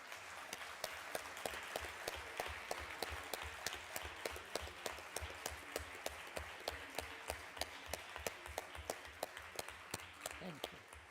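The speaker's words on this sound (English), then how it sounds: "Can we please give our panelists a round of applause?" An audience claps for the panelists at a human rights and climate justice side event, with steady applause of distinct, fairly sparse hand claps keeping a brisk rhythm for about eleven seconds at moderate volume.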